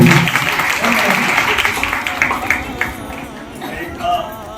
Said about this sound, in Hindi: एक बार तालियां बजा के सभी का